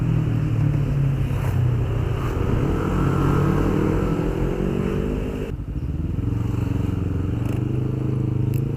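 Yamaha Aerox 155 scooter with a 150 cc-class engine on a 2020 test ride, its motor droning steadily near the microphone with revving and some road and wind noise, dipping briefly midway.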